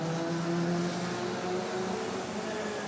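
Race cars on the Circuit des Remparts street course during practice: a continuous blend of engine drone with sustained tonal whine from passing cars, fairly loud and steady with no clear individual pass-bys.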